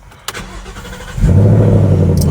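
A 2020 Mustang GT Premium V8 engine cranks briefly and roars to life, settling into a deep, loud, rumbling idle close by.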